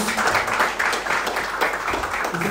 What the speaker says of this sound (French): Applaudissons pour glorifier son nom.